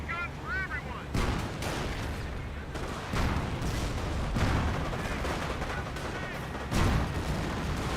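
Machine guns rattle in rapid bursts through a Company of Heroes battle, dense and continuous with heavy gunfire and explosions layered together, loud and close throughout, with short honking tones early on.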